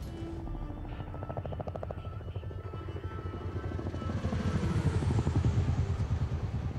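Helicopter in the video game Dead Rising 4, a steady low rotor chop and engine drone that builds louder toward the end, with faint voices underneath.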